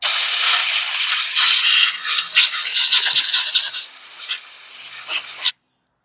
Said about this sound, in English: I'm just going to blow this area out.